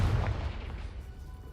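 The Confringo blasting spell from Hogwarts Legacy bursts in a heavy booming blast, loud and close, its low rumble trailing off over a second and a half.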